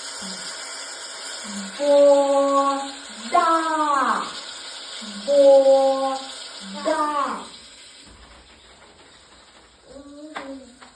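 Water runs steadily in the background while a child and an adult talk over it in short bursts.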